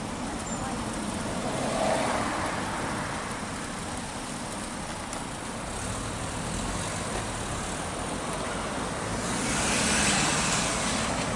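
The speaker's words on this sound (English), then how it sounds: "A bit of a bugger when cars stopping outside your camera." Car stopped on the street close outside the camera at a vintage fair in Skegness, with steady loud road traffic rumble and hiss swelling and easing throughout.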